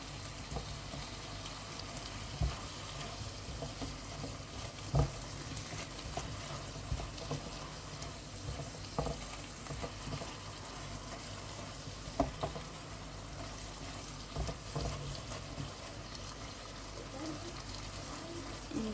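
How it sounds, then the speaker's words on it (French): Coconut candy mixture stirred in a pan, a soft continuous sizzling and scraping with small irregular clicks from the utensil, steady and close, with no one talking. "On va mélanger encore un tout petit peu car il y a le coco qui va sortir son huile."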